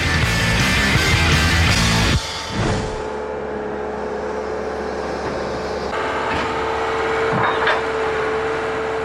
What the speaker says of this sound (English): You're seeing a lot of the power from the bucket, from the extendable dipper as it's pushing that machine up the hill